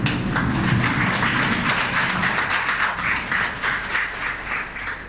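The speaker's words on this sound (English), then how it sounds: "Please stand up and clap and extent of gratitude." An audience in a seminar room in Kollam, India stands and claps in gratitude, a dense, steady patter of many hands that continues throughout without pause.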